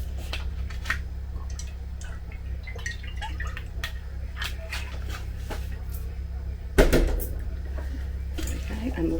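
Food is tossed and turned in an oiled pan, giving a run of light clicks and scrapes with one sharper clatter partway through, set against a steady low kitchen hum.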